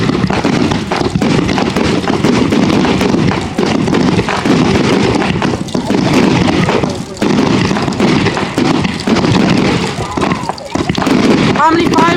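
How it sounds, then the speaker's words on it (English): Bonfire night fireworks pop and bang continuously, dense loud bursts crackling one after another with crowd voices chattering underneath. "How many fireworks do you think there are?"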